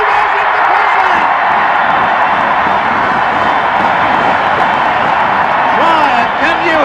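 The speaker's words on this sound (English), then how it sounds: "can you hear that crowd? They are stamping furiously" A rugby league crowd at the first State of Origin series in 1982 roars continuously and loudly, with cheering, whoops and a dense stamping rumble, under a commentator's voice.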